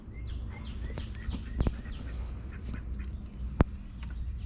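Ducks quacking in a backyard garden in the early morning, a series of scattered quacks at moderate distance over steady low background hum, with a couple of sharper knocks.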